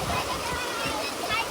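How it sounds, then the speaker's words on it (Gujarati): Heavy rain pours down with water rushing and splashing outdoors where children are bathing in it, a steady, dense wash of noise across the whole moment with voices faintly mixed in. "આમ જો વરસાદ કેવો આવે જો"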